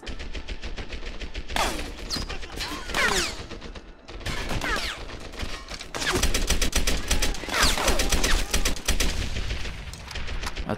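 Heavy gunfire in the World War shooter Medal of Honor: Airborne crackles in loud bursts and rapid volleys, with a brief lull midway before dense automatic fire resumes.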